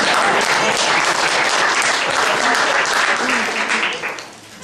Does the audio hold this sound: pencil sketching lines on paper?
no